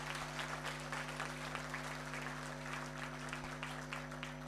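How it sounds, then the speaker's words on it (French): Audience applause at a second-anniversary celebration in Cameroon, a steady dense clapping that runs the full length at moderate distance, over a constant low electrical hum. "Applaudissez encore pour lui."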